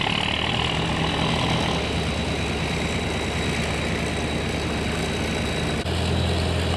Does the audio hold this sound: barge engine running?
yes